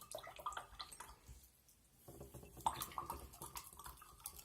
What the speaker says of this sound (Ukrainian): Ретельно потрібно розмішати.